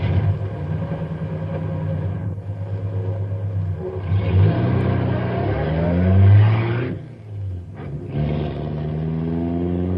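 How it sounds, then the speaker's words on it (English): Radio drama effect of a car being driven, a steady low engine rumble that swells and surges, briefly drops away, then resumes, loud and continuous with no talk over it. "I'm driving Stumpy's car."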